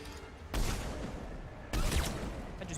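Gunfire in Mass Effect 3 Legendary Edition on PS5: two loud, sharp bursts of shots about a second apart, each followed by a sustained, noisy ring of combat sound.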